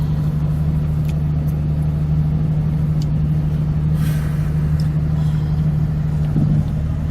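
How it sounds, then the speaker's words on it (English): A car engine idles steadily on a cold winter day during a Texas snowstorm, warming up with a constant low hum and faint hiss throughout. "This car is gonna take forever to warm up"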